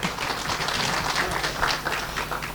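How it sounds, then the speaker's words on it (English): Audience applause at a radio reunion event about Britain Radio and Radio 355, a steady, dense patter of clapping that holds at even loudness for the whole stretch without a break. "Deserves a round of applause."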